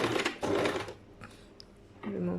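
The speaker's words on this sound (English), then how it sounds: "and then I'm gonna start sewing" A sewing machine stitching a fabric seam runs in short close bursts with quiet gaps between, a faint click in the pause, and a few murmured words nearby.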